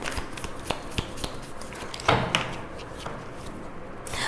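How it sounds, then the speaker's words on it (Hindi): Tarot cards being gathered, rearranged and straightened on a table: a run of soft shuffling and sliding with sharp taps and a louder clack near the middle, close and moderately quiet. "जी कार्ड्स ठीक से लगा देने दो, सारे उल्टे फुल्टे हो गए हैं।"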